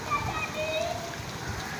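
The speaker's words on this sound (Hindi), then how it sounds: "बारिश कितनी अच्छी हो रही है" Steady rain falls outside a window during a downpour in Karachi, a soft, continuous hiss with faint splashes heard from indoors, moderately close and even throughout.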